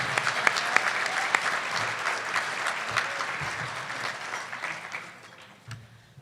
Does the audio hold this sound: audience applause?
yes